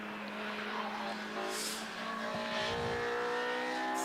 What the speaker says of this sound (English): You can hear those Honda noises, I think, on your screens now